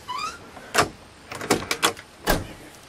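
The trunk lid of a 1968 Mercury Park Lane convertible being closed: a faint squeak, then a series of sharp metallic clunks and latch clicks, close and fairly loud, with quiet gaps between them.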